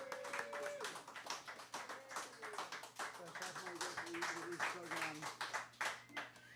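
A small audience claps after a live radio music performance, lively irregular clapping running throughout with voices heard over it.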